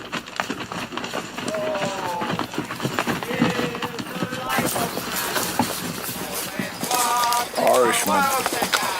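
Donkey and mule hooves clip-clop steadily through a scene in a Western adventure, a rhythmic trotting patter running under people talking for most of the stretch, with a louder voice near the end.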